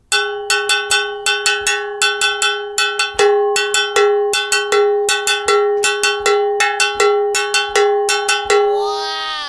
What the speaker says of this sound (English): So to strike this cowbell, I can create a pattern, something like this.